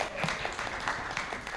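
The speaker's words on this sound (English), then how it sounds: "Big applause." Audience applause greeting a panel member at a kanthari Talks event, a short, steady burst of many hands clapping across the room at moderate level.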